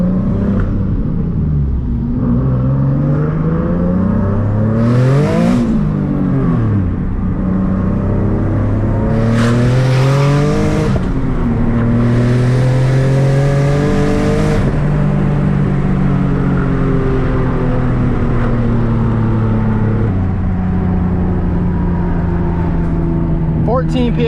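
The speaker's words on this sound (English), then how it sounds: "We're gonna do a high boost pull, and I wanna see what we're hitting." A boosted Nissan 370Z does a high-boost pull, its engine roaring up through the revs again and again as it shifts gears. The sound is loud, close and continuous throughout.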